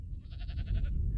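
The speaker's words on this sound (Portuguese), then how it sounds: "o bode berra" A male goat gives a single pulsing bleat lasting under a second. It is fairly clear over a steady, heavy low-frequency rumble from the surroundings.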